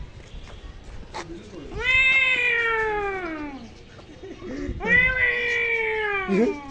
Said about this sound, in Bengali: এই যে ও তো বিড়ালটা দেখ কোথায় বসে আছে।